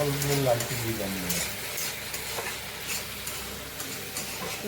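Spices frying in a pan with onion, garlic, ginger and tomato for a fish curry, a continuous sizzle with stirring scrapes, a voice briefly heard at the start.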